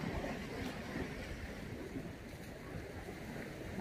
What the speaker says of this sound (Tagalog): It's a little agitated, the wave. The water, no?